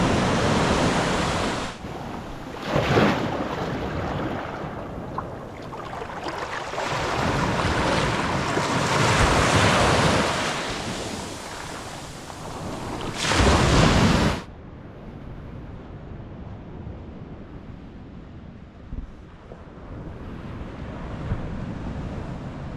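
Ocean surf and gusting wind at Mell Beach in Brookings, Oregon, with waves rolling in loud and close in repeated surges and buffeting wind noise on the microphone, then a quieter stretch of distant wash.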